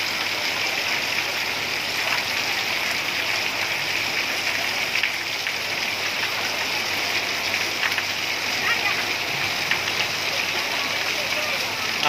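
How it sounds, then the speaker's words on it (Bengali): Heavy rain pours onto Anarkali Road near Station Road in Gazipur, a steady dense hiss filling the whole stretch with no pauses, close and loud, with faint traffic-like rumble beneath. "এই যে দেখুন আমরা আপনাদেরকে বৃষ্টির পরিমাণটা দেখাচ্ছি, কী পরিমাণে বৃষ্টি হচ্ছে।"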